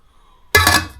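A single metallic clank as a frying pan lid is set onto a small Trav-ler cookset tin, close and sharp, ringing briefly before fading.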